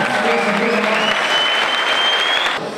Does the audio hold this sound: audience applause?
yes